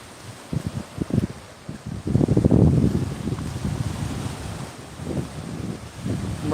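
Ocean surf washing up on the beach at Clearwater, Florida, heard from right at the water's edge, a steady broad rush with swells of louder breaking water and some wind buffeting the microphone.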